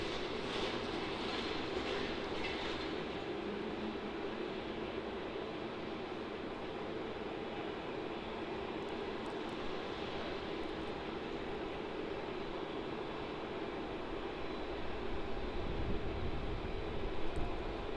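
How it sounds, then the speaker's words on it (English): Boeing 787 airliner QH88 arriving at Melbourne Airport, heard as a distant, broad engine roar that holds steady and swells slightly near the end, faint and alone. "QH88 flying in from Ho Chi Minh City, wearing a very special livery there, the first 787 livery."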